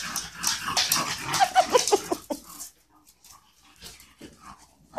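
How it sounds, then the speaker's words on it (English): An English bulldog whimpers and yips in a run of close, busy high cries for about two seconds, then goes quieter with a few scattered soft sounds. "What's that crazy dog doing?"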